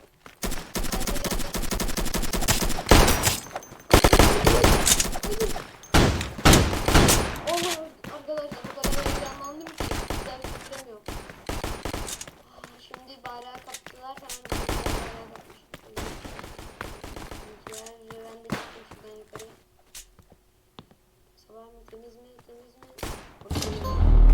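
Gunfire in the online game Flag Wars comes in loud, dense bursts of automatic fire and rapid single shots, with brief lulls between volleys and scattered thuds, all close and harsh.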